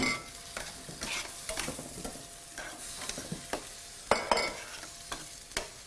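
Beef and broccoli stir fry with a cornstarch marinade sizzling in a hot pan, a close, continuous frying hiss broken by frequent stirring clatters and scrapes.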